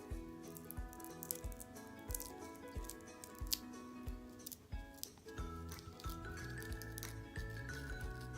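Charcoal pore strip peeled slowly off a nose, a close, faint run of crackling, tearing ticks and small snaps continuing unevenly throughout over soft background music.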